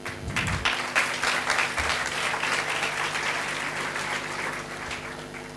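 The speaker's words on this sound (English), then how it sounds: "Now let us again applaud their dedication and commitment as they take stage to present their papers." An audience at a students' conference applauds as presenters take the stage, a loud sustained burst of many hands clapping that eases off slightly toward the end, with no talking over it.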